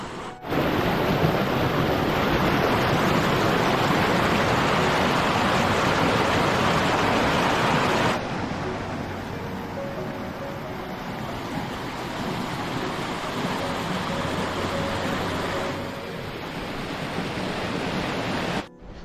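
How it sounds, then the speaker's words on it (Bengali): A mountain river torrent in a remote Sikkim gorge roars over rough rocks, a loud, dense and continuous rush of water that drops somewhat in level partway through and then carries on steadily. "এবড়োখেবড়ো পাথরের ওপর দিয়ে খরস্রোতে প্রবাহিত আর তার গর্জন শোনো কত তীব্র"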